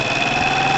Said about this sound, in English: listen to the engine revs drop, listen. Too much air going in.